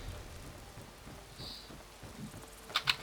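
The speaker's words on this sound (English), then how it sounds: "And it's still raining." Soft, steady rainfall in the video game Skyrim with faint patter, a couple of brief sharp clicks near the end; no talking.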